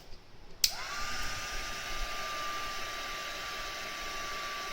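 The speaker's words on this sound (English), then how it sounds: "I'm going to take my heat tool" A heat tool starts with a sharp click and runs as a steady, loud blowing whine with a high tone, melting embossing powder on a PaperClay piece, close and continuous with no talk.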